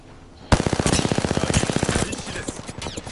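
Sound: gunfire in video game

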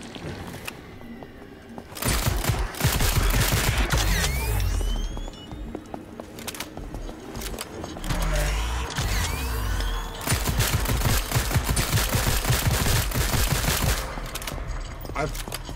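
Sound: gunfire in video game Call of Duty Zombies

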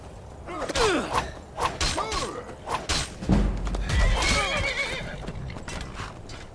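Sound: horse neighing angrily in Skyrim video game

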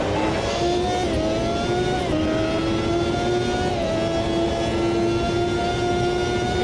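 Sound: Porsche 908 race car engine in a racing video game

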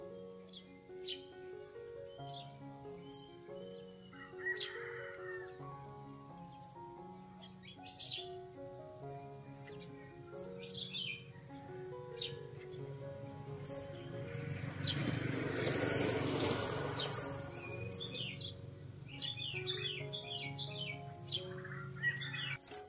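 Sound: songbird for sale chirping, five-colour bird

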